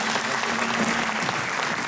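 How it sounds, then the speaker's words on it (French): Applause from an audience at a French hypnosis awards show, a dense, steady patter of many hands clapping close by and filling the whole moment. "Super, on peut les applaudir."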